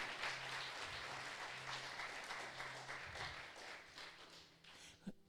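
A church congregation applauds in a sustained, fairly faint burst of many hands clapping together, thinning out toward the end.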